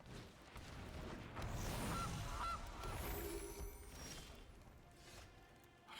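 A goose card in the video game Magic Arena gives a loud cartoonish honk over game noise, the honking spread across several seconds with no voices.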